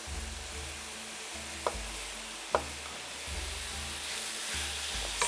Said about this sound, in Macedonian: Сега и ова го пропржуваме